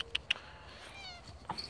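A house cat gives a few brief, high chirping meows in quick succession at the start, then one more a second later, faint and close against a quiet indoor background.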